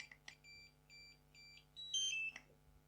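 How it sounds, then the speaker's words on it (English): Electronic error beeping from a DJI Mavic Mini controller with its joysticks unplugged: a repeating series of short, evenly spaced tones over a low hum, then a brief louder warbling tone, close and clear with no talking. "it's making this beeping noise because the joysticks are unplugged, so it's just an error."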